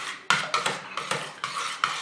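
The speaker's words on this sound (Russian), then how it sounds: "Добавляем по чуть, чтобы не было комочков, и сразу же хорошенечко размешиваем." A spoon stirring flour into a mayonnaise batter with soda for a quick fish pie, in a bowl: quick close scraping clinks in an uneven rhythm, about six strokes, with no talking.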